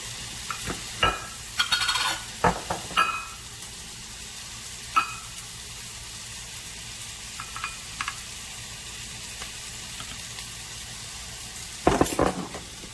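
A few scraping stirs and utensil clinks against a pot as yellow grits go into boiling water, with quiet bursts of bubbling and a long stretch of soft, steady background hiss between them.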